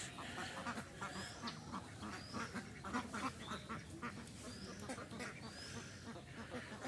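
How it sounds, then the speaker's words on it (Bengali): Muscovy and common ducks in a village yard quack repeatedly in a busy, overlapping chorus at moderate distance, with soft rustling and faint background noise throughout. "ওই যে চীনা হাঁস পাতি হাঁস এই যে পাতি হাঁস এই যে চীনা হাঁস"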